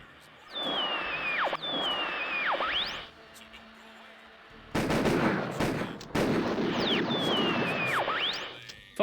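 Repeated shotgun blasts in the horror point-and-click game Harvester, several loud booming shots separated by short pauses, each followed by a descending whistle-like tail, with a brief quieter stretch midway.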